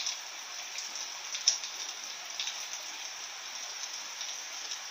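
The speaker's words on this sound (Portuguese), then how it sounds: "Olha como que tá chovendo." Heavy rain falls steadily outdoors, a dense continuous hiss with scattered louder drops striking nearby surfaces, no voices over it.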